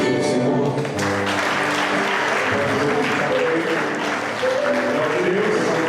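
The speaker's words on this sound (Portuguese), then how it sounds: "Você pode aplaudir o Senhor" Church congregation applauding during a Portuguese-language sermon, steady dense clapping throughout with music or voices audible beneath it.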